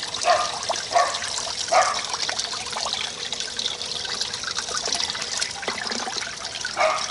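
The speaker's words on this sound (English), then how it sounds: "See there? Water coming out of there too." Water trickles steadily from the ports and cylinder head area of a Yamaha outboard motor being flushed, a continuous close dribble with a few brief louder splashes and no talking.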